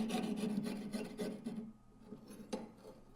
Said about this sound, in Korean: 톱대를 빠르게 위아래로 왔다 갔다